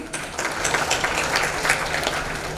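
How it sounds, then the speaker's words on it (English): Audience applause fills a hall at an awards ceremony honouring women achievers, a dense, steady wash of many hands clapping at close range with no speech over it. "Huge round of applause, please."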